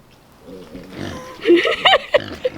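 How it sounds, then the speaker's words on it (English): Fat pigs grunt and oink nearby in a swampy outdoor pen, with soft snuffling at first that builds into several loud, close squealing oinks and short grunts toward the end. "Come on, pigs."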